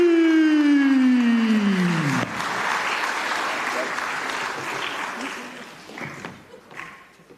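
Audience applause for a director at a tenth-anniversary performance event begins after a falling siren-like tone, then spreads into broad crowd clapping that gradually thins and fades, with faint voices near the end.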